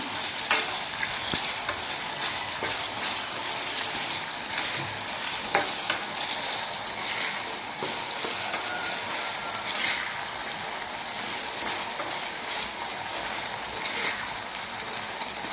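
Masala with raw mango pieces frying in a pan, a steady dense sizzle with intermittent stirring scrapes, close and continuous.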